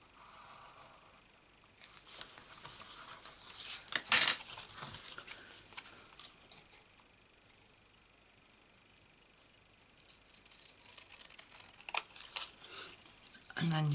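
Scissors snip through paper while a star shape is cut out, giving a few short, quiet crisp cuts spaced apart, with faint handling rustles between them.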